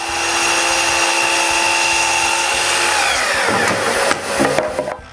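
A power saw whines steadily as it cuts a 45-degree angle through a wood board in a workshop, loud and close, then winds down with a few rattling clunks at the end.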